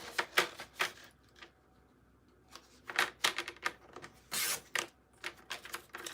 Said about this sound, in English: I'm gonna cut this side flap off